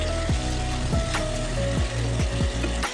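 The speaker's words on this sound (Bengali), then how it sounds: "1 চামচ নুন দিলাম, দিয়ে এটাকে ভালো মতো ভাজতে থাকবো।" Paneer frying in a pan with turmeric and salt, a steady dense sizzle running throughout with several soft scraping stirs of a spatula, close and continuous.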